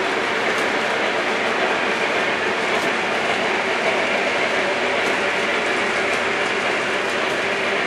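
A model train rumbling continuously along its track, a steady dense mechanical whir with faint rhythmic clicking, close and fairly loud.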